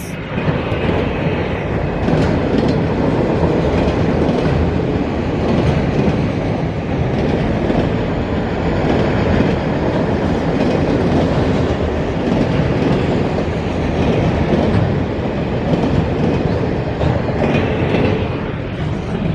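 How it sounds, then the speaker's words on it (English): A train rumbles past close by, a steady loud roar with rhythmic clickety-clack of wheels on the rails, continuous for the whole stretch. "It's fast. Look at that train."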